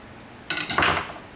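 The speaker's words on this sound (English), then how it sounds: "take the knife and then go around" A knife traces the edges of a round silicone soap mold, making a brief, close clatter of scraping and light clinks that lasts under a second and then fades.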